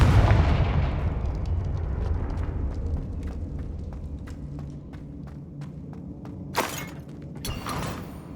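Confringo blasting spell in Hogwarts Legacy: a loud burst opens, then a series of sharp crackling pops and impacts sound at a steady rhythm, ending in a couple of brighter bursts.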